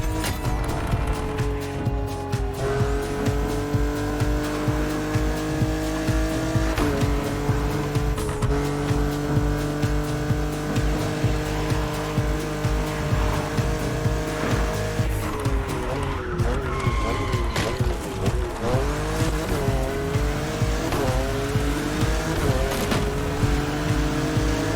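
A BMW drives in The Crew Motorfest racing game, its engine note holding loud and steady as it shifts through gears, with repeated tire squeals and skids during hard cornering across the stretch.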